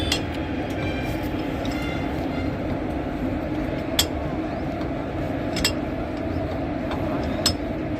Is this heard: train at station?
yes